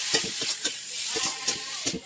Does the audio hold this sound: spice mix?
yes